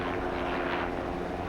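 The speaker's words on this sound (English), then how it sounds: "the faint flutter of a search chopper that hovers overhead" A search helicopter hovers overhead during a manhunt in a small Maryland town, its steady rotor flutter and engine drone filling the air as a continuous, even wash with no voices.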